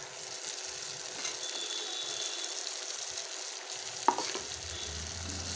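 Potatoes being stirred into goat tripe frying in a pan give a steady, even sizzle throughout, with one sharp utensil knock near the end.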